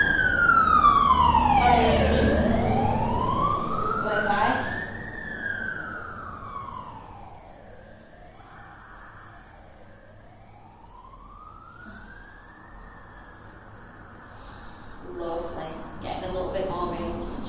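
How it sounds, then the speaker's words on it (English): A fire engine's wailing siren sweeps up and down as it passes outside during a Pilates class, loud at first, then fading and returning, with an instructor talking over it. "Apologies for the fire engine just going by."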